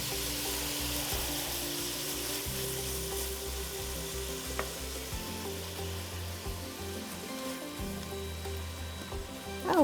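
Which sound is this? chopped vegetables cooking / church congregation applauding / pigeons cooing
chopped vegetables cooking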